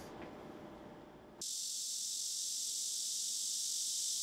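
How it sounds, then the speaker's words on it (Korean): A cicada sings in summer, a bright, steady, high-pitched buzzing drone that switches on abruptly after a quieter start and then holds evenly and close. "여름이면 쉽게 볼 수 있는 매미."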